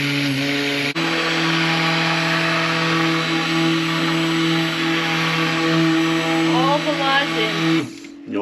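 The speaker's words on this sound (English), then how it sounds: "Then we got to use an immersion blender." An immersion blender mixes coffee soap with lye, whirring steadily at a constant pitch, briefly shifting tone near the end before cutting off abruptly; close and loud, no talking.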